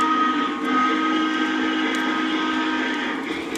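Model train layout with two Legacy AC6000 locomotives running in a lash-up beside a Southern Pacific 4449, giving a steady tonal motor hum and rolling drone, loud and continuous without breaks.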